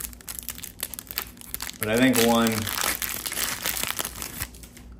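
A 2024 Panini Score football card pack is ripped open, the foil wrapper giving a loud crinkling tear for about a second amid close conversational talk.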